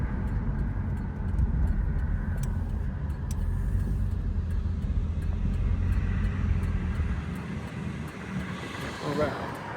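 A 1999 Pontiac Firebird Trans Am WS6 with an LS1 engine rumbles low and steady, the engine note rising and then dropping away near the end, with talk over it.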